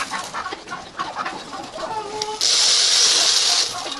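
Domestic chickens cluck and call in a village farmyard in late autumn as they are fed whole grain, with a steady loud hiss breaking in partway through.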